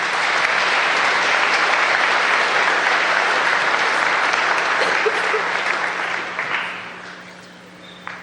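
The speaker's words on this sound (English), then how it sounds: "Why don't we give him another round of applause?" Sustained audience applause at a Veterans' Day commemoration at West Senior, following a singer's performance; steady, dense clapping from a full room that holds level for several seconds before thinning out and fading near the end.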